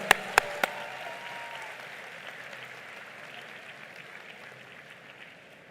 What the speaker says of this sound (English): A big round of applause to all those who have got the medals today.